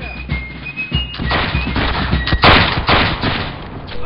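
Gunfire in the video game Battlegrounds 2, a dense ragged volley of musket-style shots going off one after another, loud and close, with overlapping booms and a faint horse whinny in the mix.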